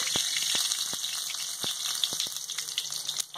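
A bay leaf sizzles in hot mustard oil in a karhai with a constant bright hiss and scattered sharp pops and crackles, close and fairly soft.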